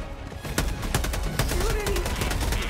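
Rapid bursts of gunfire in Helldivers 2, sharp repeated shots cracking over dense game noise, with people talking during the firing.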